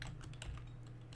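Fingers tapping on a computer keyboard while typing a command, a brief run of quick, light clicks close by over a steady low electrical hum.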